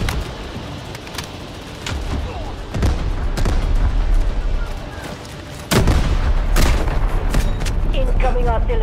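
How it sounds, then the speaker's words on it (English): Incoming artillery fire in Delta Force pounds in repeated booming impacts and sharp shots, growing heavier toward the end, with a voice heard briefly among the blasts. "Incoming artillery."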